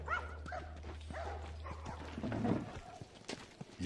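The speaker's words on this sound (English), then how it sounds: "Oh, it's a dog." Faint, scattered barks and yips from a dog in the video game The Last of Us, mixed into a busy, murmuring game soundscape.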